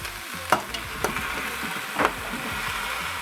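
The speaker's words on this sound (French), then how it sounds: "Je vais ajouter donc mes légumes pour les faire un petit peu dorer également." Vegetables browning in a Moulinex Cookeo pot for pot-au-feu, a soft steady sizzle with a few sharp stirring knocks and scrapes at irregular moments, fairly quiet and close, with no talking.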